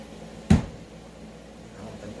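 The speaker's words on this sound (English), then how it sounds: "That's the door." A door knocks or thumps once in a room at home, a single short, close thud standing out from quiet background, with faint indistinct sounds afterward.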